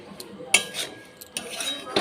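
Utensils and dishes being handled, a few sharp metallic clinks and clatters of cutlery and pots spaced over a couple of seconds, close by, with quiet background.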